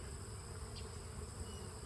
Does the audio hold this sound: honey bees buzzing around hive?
yes